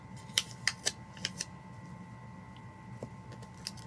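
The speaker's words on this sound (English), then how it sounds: "I'm gonna cut off the bottom offset" Scissors cut along the paper offset of a planner sticker in a quick run of crisp snips, about five close together and then a couple more spaced out, over a steady low hum of room noise.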